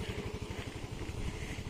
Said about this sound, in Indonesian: Itu motor aku.